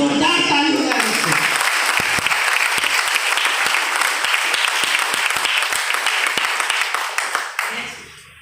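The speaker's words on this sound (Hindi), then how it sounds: "इसके लिए आप सभी के लिए जोरदार ताली हो जाए दोस्तों।" Loud, sustained applause from an audience at a talk, dense clapping filling the whole stretch and fading at the end, with a voice briefly heard at the start.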